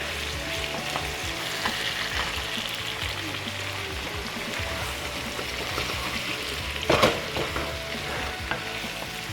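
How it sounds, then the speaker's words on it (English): Onions caramelizing in a pot, sizzling steadily with scraping stir strokes throughout and a brief louder clatter near the end, no one talking. "We'll let that caramelize down a little bit. Stir in my onions over here."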